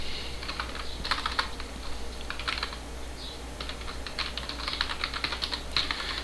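Rapid keystrokes on a computer keyboard as a shutdown command is typed at a router terminal, bursts of clicky taps alternating with short pauses, close and clear over a steady low hum.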